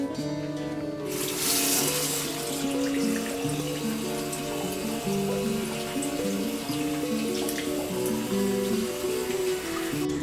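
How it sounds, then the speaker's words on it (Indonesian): Hands being washed under running tap water, a steady close splash and stream from a faucet that continues throughout with a background melody playing underneath. "Mencuci tangan dengan air mengalir sangatlah sederhana."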